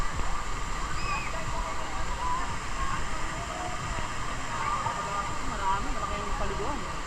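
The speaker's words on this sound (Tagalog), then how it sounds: "Sa Aliw Falls." Aliw Falls waterfall roaring as a steady, dense rush of falling water, continuous and fairly loud throughout with no break, filling the whole clip without any clear voices.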